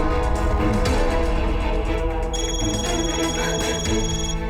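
A phone ringing with a repeating electronic ringtone, loud and continuous through the whole stretch, with no voices over it.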